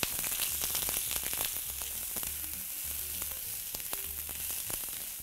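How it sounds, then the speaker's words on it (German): Sliced onion strips and finely chopped garlic fry in hot oil, giving a steady close sizzle and crackle with occasional stirring clicks and scrapes. "habe ich hier Zwiebeln in Streifen geschnitten, die kommen ins heiße Öl"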